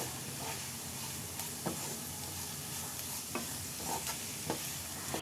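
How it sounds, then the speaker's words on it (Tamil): Tomato and spice masala frying in a pan as it is stirred for an egg dish, a steady close sizzle broken by scattered scrapes and clicks of the spoon, with no talking. "அது வரைக்கும் கலந்து விட்டுக்கோங்க."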